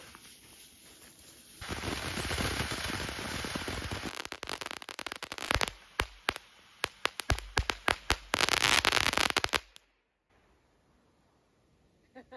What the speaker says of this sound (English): I turned the fireworks off so you can eat.